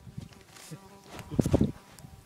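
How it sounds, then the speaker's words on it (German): Large bees about the size of a table tennis ball buzz in short, close bursts near the Rio Napo, with a louder passing drone in the middle of the sound. "Hier hat es die Bienen von der Größe von fast einem Tischtennis bei"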